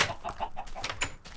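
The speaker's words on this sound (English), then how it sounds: "Man, having 4 chickens is the life" Chickens clucking in TerraFirmaCraft, a modded block-building game: a quick series of soft, short clucks in a faint, uneven rhythm, alone.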